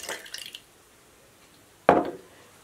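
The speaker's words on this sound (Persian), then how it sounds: "یک مقدار خیلی کم بهش آب اضافه میکنم" A little cold water poured into kashk in a bowl, heard close up as a short trickle followed by a brief, louder splash, with no talking.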